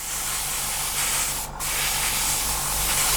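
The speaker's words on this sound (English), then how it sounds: "we can just spray the black back" An airbrush sprays black paint onto scale model aircraft parts with a continuous close hiss, broken by one brief pause in the middle before the spray starts again.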